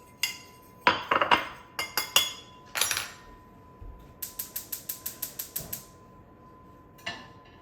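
A saute pan handled on a stove: sharp metallic clinks and clanks, scattered then clustered, followed by a quick even run of about a dozen ticking clicks and one last clink, close and clear with no talk.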